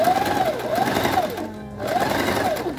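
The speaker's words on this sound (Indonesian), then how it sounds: "lalu kira-kira kita jahit 1 cm" A sewing machine runs loud and close, stitching an elastic waistband seam on a child's garment, its motor whirring up in bursts with a brief pause midway.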